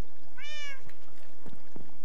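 A cat meows once in Minecraft, a short rising-falling game sound effect, followed by faint soft thuds and game noises with no talking.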